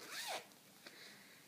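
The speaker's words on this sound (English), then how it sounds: "you can take the pillowcase off as well and wash it because it has a zipper" A zipper on a bamboo pillowcase over a memory foam pillow is pulled open in one quick, fairly loud rasping stroke, followed by a faint click and a little soft handling.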